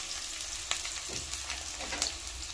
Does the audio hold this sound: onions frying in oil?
yes